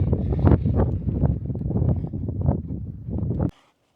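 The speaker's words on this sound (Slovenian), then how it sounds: "Zdaj se že vračava, ker tok piha gor" Steady, loud wind rushes and buffets the microphone on a high mountain ridge, roaring without a break before cutting off abruptly near the end.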